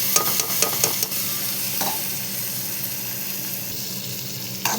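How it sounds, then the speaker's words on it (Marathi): Cut fish roe drops into onion-tomato masala sizzling in a pan, making a steady loud frying hiss with a few stirring clinks at the start. "मच्छीचे अंडे मी असे कट करून घेतलेले आहे, हे बघा याच्यामध्ये टाकून देऊया"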